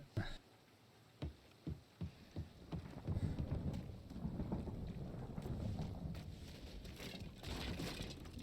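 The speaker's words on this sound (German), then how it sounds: "Es regnet." Rain falling with rumbling thunder in Mafia: Definitive Edition, several low thumps at first giving way to a steady wash of rain and rolling rumble, moderately loud.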